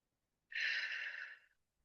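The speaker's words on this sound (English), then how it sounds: "take a nice deep breath." A single deep breath, drawn in slowly as part of a calming heart-centred exercise, about one second long, soft and close, with no talk over it.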